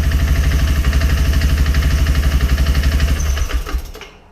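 2016 Outlander 450L ATV engine running close by with a steady, rough pulsing chug, then winding down and cutting off near the end.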